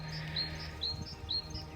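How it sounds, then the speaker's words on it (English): Songbirds chirp outdoors at sunset over the hills around a rural farmhouse in Giove, Umbria: a faint, repeated series of short, high tweets at a quick, uneven pace over soft background ambience. "you will hear different kinds of birds coming and going"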